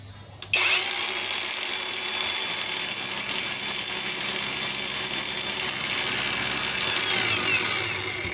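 Boerte angle grinder switched on at its lowest speed setting, spinning up with a sudden jump and then holding a steady, loud, high whine close by.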